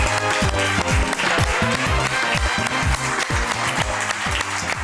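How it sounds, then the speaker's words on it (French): Sustained, loud audience applause and clapping at a French TV talent show, steady throughout, over a thumping musical beat. "Et tu continues à applaudir parce que ça te plaît?"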